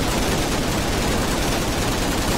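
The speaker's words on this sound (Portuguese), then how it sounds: "100 tiros que você dá sem parar" A machine gun in Minecraft's Flan's Mod fires without pause, a dense, loud, unbroken roar of rapid shots filling the whole stretch.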